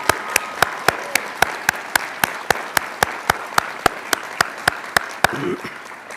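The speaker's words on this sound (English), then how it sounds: "How about a round of applause for all those parents who have joined us today?" An audience at a college commencement applauds, with one nearby pair of hands clapping in sharp, evenly spaced beats over a softer wash of crowd clapping.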